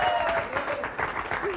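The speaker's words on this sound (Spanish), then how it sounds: "Un aplauso para Juan Manuel." Studio audience clapping for a contestant on a television show, a brief burst of dense applause heard close, with a faint voice or tone drifting underneath.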